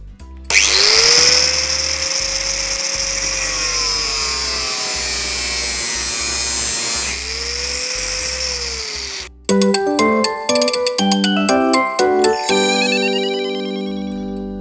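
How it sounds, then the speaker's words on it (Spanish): An angle grinder cuts through metal for a wrought-iron retro side table, a loud steady high whine with pitch dips as the disc bites, then a pause and a run of choppy, ringing metallic scrapes and clatter. "Yo voy a ir haciendo este corte"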